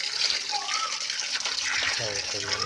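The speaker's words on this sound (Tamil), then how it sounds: "வாங்க, துளசி செடிக்கு தண்ணி ஊற்ற போகிறோம்." Water splashes and gushes steadily as it is poured onto a tulsi (holy basil) plant while people talk over it, close by.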